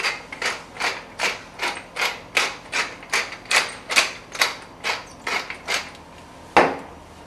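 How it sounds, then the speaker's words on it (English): A hand pepper grinder cracks black pepper in steady, rhythmic crunching twists, about a dozen close, even gritty pulses, ending with one sharper knock, and no voice over it. "I'm going to have some freshly ground pepper."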